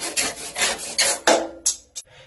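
A wooden ruler clamped in a vise being cut with a hand saw: rough, rasping strokes in an uneven rhythm, close and fairly loud, ending in a few short separate scrapes.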